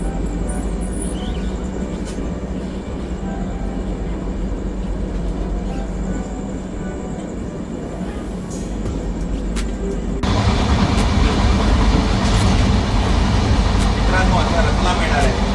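A passenger train runs along the tracks on the way from Maharashtra, a steady, loud rumble heard from inside the carriage that grows rougher and louder partway through, with people talking over it.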